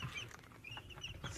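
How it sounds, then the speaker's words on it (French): Chicks peep and cluck softly in a brooder of purebred pantalonnier poultry, short chirps scattered over a faint background. "je vais vous montrer ma poussinière."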